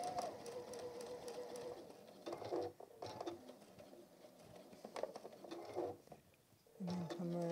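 A domestic sewing machine runs a short back stitch to secure a seam on a Tilda goose toy, quick bursts of rapid stitching broken by brief pauses, close and fairly quiet.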